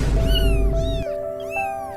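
A cat gives a few drawn-out meows, rising and falling, close by, over a steady humming tone in the background.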